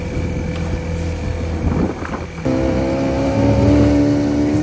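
A 60-year-old boat's loud engine drones under rushing wind and water, with a thump as the hull slams over a wave midway.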